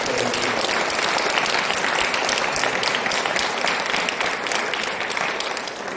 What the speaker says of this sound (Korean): 우리 목사님께 박수 한번 드리겠습니다